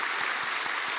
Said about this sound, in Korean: 우리 수고하신 선생님들께 한 박수 한번 할까요?